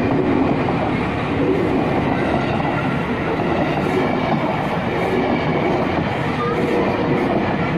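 A KRL commuter line train passes a crossing in Cibinong, its steady, loud rolling roar and rail clatter filling several seconds from close range, with a voice faintly audible beneath.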